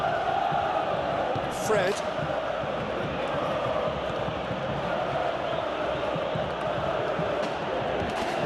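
Stadium crowd roar in an eFootball match between Galatasaray and Fenerbahçe, a steady dense wall of crowd noise throughout with a brief whistle-like rise near the start, under a commentator's voice.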